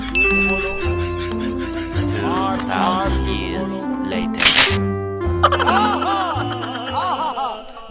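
A melodic phone ringtone plays loudly and steadily, a looping tune of chiming notes over a low bass line.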